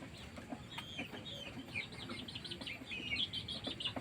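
Laying hens cluck and cheep in a flock, many quiet, rapid overlapping calls growing busier toward the end, heard nearby over a low background hiss with no talk.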